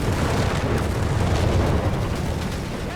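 Rumbling, booming artillery-like blasts from Sherman tank fire striking infantry in Company of Heroes 3, a dense, continuous low roar of explosions with no speech.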